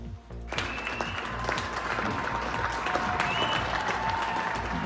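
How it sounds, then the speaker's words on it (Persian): Across Britain, people applaud the national health service outdoors at night, steady widespread clapping sounding distant and continuous, with occasional whistles and cheers in the mix. "تشویق و قدردانی از سیستم درمانی بریتانیا که به طور خودجوش دیشب در سراسر این کشور صورت گرفت"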